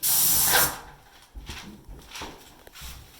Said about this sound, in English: I just want to spray as much of it as I can so you can see